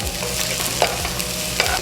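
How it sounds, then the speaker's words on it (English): Green onions sizzle and crackle in hot vegetable oil in a cast iron pan for kimchi fried rice, a loud continuous frying hiss with occasional sharper pops, close up and without talk. "And now we're gonna add the green onions."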